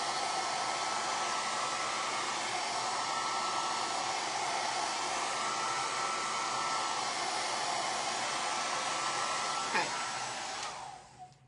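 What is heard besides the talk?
hair dryer running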